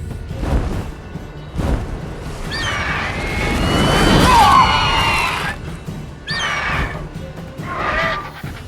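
A horse in the video game The Witcher 3: Wild Hunt gives a loud, shrill whinny in the middle of a clamorous fight scene. Thuds, crashes and shouting voices surround it, and further cries follow.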